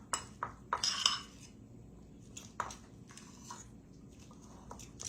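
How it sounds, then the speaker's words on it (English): A fork scraping and clinking against a bowl while deviled egg filling is mashed smooth, several sharp metallic taps early, then softer scattered scrapes, close and fairly quiet. "Just start mixing it in. With the back of your fork."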